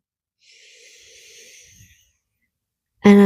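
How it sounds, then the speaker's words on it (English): A deep, slow inhale during a seated yoga practice, a breathy, airy draw lasting about a second and a half, followed by silence and then the start of a voice. "And then a big inhale."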